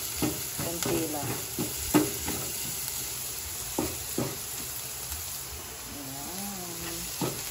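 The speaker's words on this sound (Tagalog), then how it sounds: "Pinirito ko na yung isda." Fish fries in a pan at home, a faint steady sizzle with scattered soft pops and clicks of oil and utensils, heard up close without talk.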